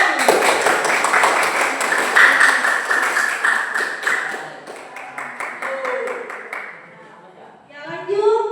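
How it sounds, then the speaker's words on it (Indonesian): An audience at an Indonesian seminar on recognising one's potential claps hands loudly and steadily for several seconds; the applause thins and fades out, and a voice starts speaking at the end. "Iya, kita beri tepuk tangan."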